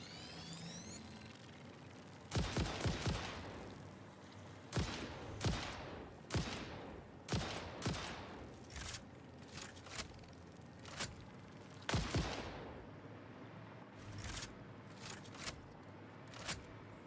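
Gunfire in the factory-building game Satisfactory, heard as a series of sharp separate shots spaced irregularly over a quiet background, some in quick pairs, fairly faint overall, with no talk.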